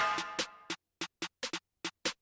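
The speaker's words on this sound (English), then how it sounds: "I added like this little percussive snare in the background" Layered drill snares with a small percussive snare carrying a touch of reverb, a short string of crisp cracks in a bouncing rhythm, the opening hits trailing a brief ringing tail, dry and close.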